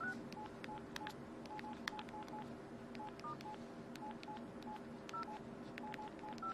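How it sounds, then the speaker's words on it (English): Touch-tone beeps from a phone's center keypad keys as a message is typed, many short, faint tones in quick irregular succession over a low steady hum. "I just don't like the fact that these keys here in the center make the phones like a touch-tone phone from a regular phone, different sounds."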